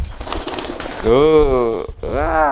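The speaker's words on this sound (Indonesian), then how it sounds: "Ini merpati balap, teman-teman, bukan merpati kolong." A racing pigeon coos with a throaty, wavering call, loud and close, in two drawn-out bursts after a short stretch of rustling.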